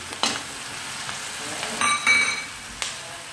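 Spinach tipped into a pan of browned tomatoes and onions sizzles and hisses quietly, with a few soft scrapes and clinks of stirring and no talking.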